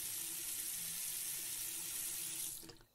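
Water runs steadily from a tap in the Denizen game, a close continuous hiss that cuts off near the end with a faint clunk as it stops.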